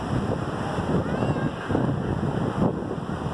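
Sea waves roll and wash continuously at Hawks Bay beach in Karachi, a steady close roar of surf mixed with heavy wind buffeting the microphone.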